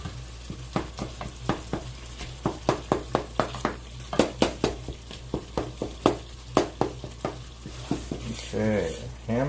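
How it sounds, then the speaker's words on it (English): Ground hamburger meat fries in a pan for a simple potato-and-hamburger meal, a steady close sizzle broken by frequent sharp scrapes and clacks of a utensil stirring the meat, with a brief louder hiss near the end. "hamburger's almost done"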